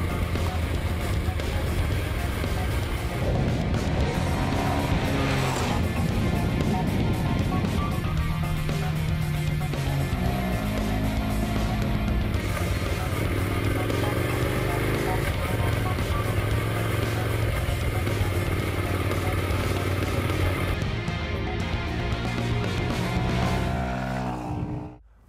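A Honda CBR125R motorcycle on a lap of a circuit, its small engine droning and rising and falling through gear changes, loud and continuous, mixed with steady wind roar, until the sound cuts off at the end.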